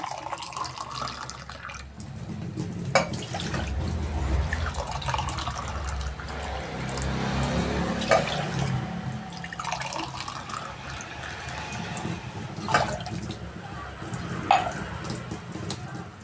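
Water runs and splashes steadily from glasses into a cooking pot for several seconds, with occasional clinks and small knocks along the way.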